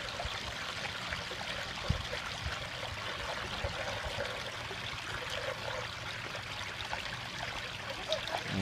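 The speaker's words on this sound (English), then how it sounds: "Now that we got the waterfall up and running" Water from a koi pond waterfall pours and splashes steadily into the pond, a continuous broadband rush of flowing water that stays close and even throughout with no talking.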